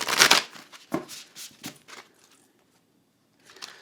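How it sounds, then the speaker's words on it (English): Oracle cards are riffled and shuffled in a few quick, soft bursts up close, followed by a pause and a brief final rustle. "we are going to give them a nice shuffle"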